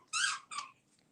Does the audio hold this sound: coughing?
no